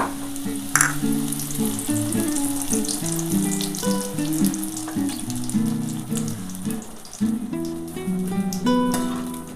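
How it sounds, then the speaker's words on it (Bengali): Bori lentil dumplings fry in hot oil, giving a continuous close sizzle and crackle that lasts throughout with occasional stirring clinks. "আমার কিন্তু তেলটা গরম হয়ে গেছে, আমি বড়িটা প্রথমে ভেজে নিচ্ছি"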